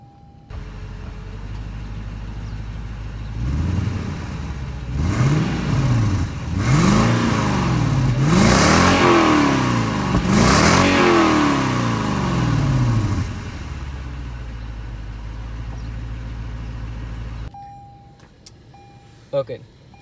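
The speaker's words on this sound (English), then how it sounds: "I'll give you an engine sound test." A 2021 Lexus LX 570 Super Sport starts up, then its engine revs loudly in four rising and falling bursts before settling back to a steady idle and cutting off, with a brief click at the end.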